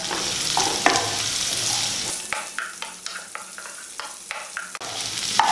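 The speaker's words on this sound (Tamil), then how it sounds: "பாதி வெங்காயம் வதங்கினதுக்கப்புறம் நீங்கள் முள்ளங்கியை போடணும்" Radish and onions sauté in a pan for radish chutney, a steady sizzle broken by a quick series of spatula scrapes and stirring knocks close by.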